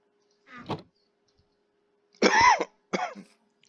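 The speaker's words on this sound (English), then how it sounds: "another fine cough just before the end" A person in a quiet room coughs three times up close, one short cough, a pause, then a louder harsh cough followed quickly by a shorter one, with no talk around them.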